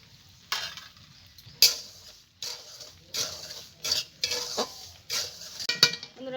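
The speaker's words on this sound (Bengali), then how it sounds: "সুজিটা আমি তেল কিংবা ঘি দিয়ে ভাজিনি এমনি শুকনো কড়াই ভেজে নিয়েছি" Semolina dry-roasting in an oil-free wok, stirred with a metal utensil that scrapes and clinks against the pan in repeated strokes over a soft background rustle, close by with no voices.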